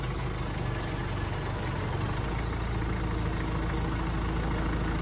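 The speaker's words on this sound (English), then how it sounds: "Did you get to drive the tractor?" A tractor engine runs steadily on a cold, snowy day, a close, continuous low rumble holding an even level, with no voices heard.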